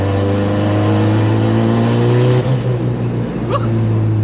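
A boosted car engine revs on a short test drive, loud and close, with a rising, strained drone that climbs in pitch, then eases and shifts, running on its own without talk.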